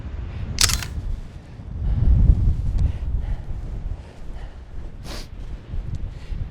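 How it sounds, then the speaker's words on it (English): Wind rumbles and buffets against the microphone in uneven gusts on a Rocky Mountain National Park trail near the Loch, with a couple of sharp clicks standing out. "Honestly, it's windy,"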